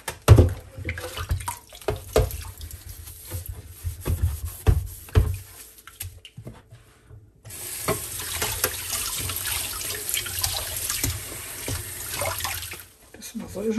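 Tap water runs steadily from about the midpoint while a brayer roller is rinsed in a sink, preceded by scattered rubbing and knocking sounds, with a voice speaking in German in the first half.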